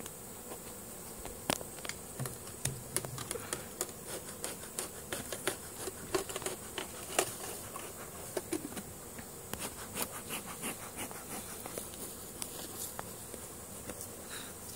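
Honeybees buzz in a pasture while their hives are moved, steady close humming and droning mixed with scattered clicks, taps and rustling handling noises.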